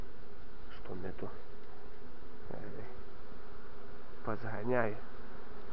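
Swarm of bees with young queens in the hollow of a linden tree, a steady close buzzing hum throughout, with someone speaking briefly over it.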